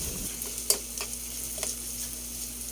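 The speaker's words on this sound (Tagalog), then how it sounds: "Tuloy nyo lang sa paggisa hanggang maluto yung anyong kamatis." Tomatoes sautéing in a pan make a steady close sizzle, with a few sharp clicks and scrapes from stirring and a low hum underneath. No one speaks.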